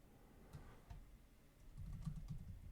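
Computer keyboard typing during a programming session, soft irregular key clicks with a denser burst of keystrokes toward the end, close and quiet with no talking.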